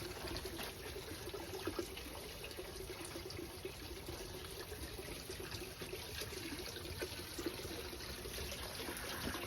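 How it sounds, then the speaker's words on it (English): A small water fountain trickling at Shimogamo Shrine in Kyoto, a faint continuous splash and dribble of water with steady low ambient hiss and no talking. "There's a little water fountain here."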